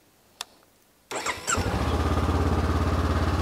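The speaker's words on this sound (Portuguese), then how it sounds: "eu recomendo que você ligue a moto aqui por uns 2-3 minutos" A Honda CB500X motorcycle starts with a brief crank, catches, and settles into a loud, steady, rhythmic idle close by. A faint click comes just before.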